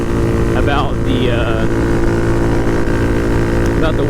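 Motorbike fitted with a DHM 149cc big bore kit held at about three-quarter throttle, a loud steady droning engine note with a constant buzzing hum, sustained without letup.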